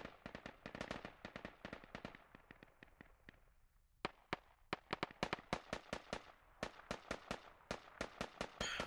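Grenades exploding in the video game Squad on the Kohat map during a competitive match, heard as a dense string of sharp, loud bangs in quick succession, briefly thinning out midway before the rapid blasts resume.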